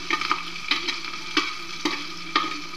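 Potatoes and green chili cooking in a pan for sabudana khichdi, a light sizzle with a handful of sharp stirring scrapes spaced about half a second apart, near and quiet, with no talking.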